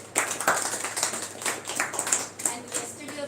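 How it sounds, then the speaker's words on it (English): An audience at a live English-speaking class session claps in a loose, uneven patter of hand claps, moderately close, with a voice talking over part of it. "Please clap for him."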